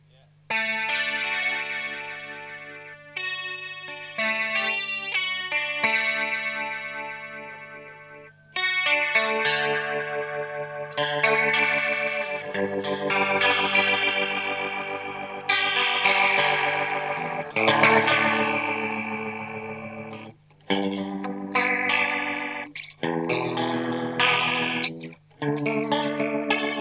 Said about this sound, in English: Rotary effect is what we are on now.